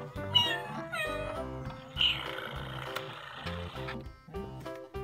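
Repeated electronic meows from a Hasbro FurReal Friends toy cat, several in quick succession, moderately loud and mixed with chiming tones.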